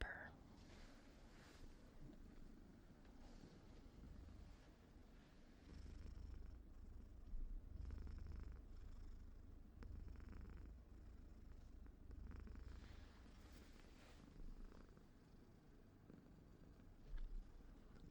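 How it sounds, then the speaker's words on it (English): A pet kitten purrs close by in a steady, low rumbling drone that runs throughout, soft and continuous with slight swells. "So you might be able to hear her purr."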